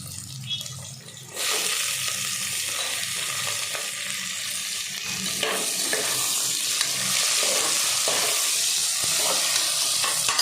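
Chopped onion hits hot oil in a pan for coconut milk rice and a steady loud sizzle takes over, with scraping stirs throughout and no voices.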